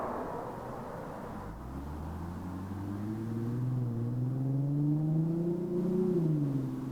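Nissan 370Z with an Invidia cat-back exhaust accelerating, a deep engine drone rising steadily in pitch as it revs up, then easing slightly near the end, heard from moderately near without talk.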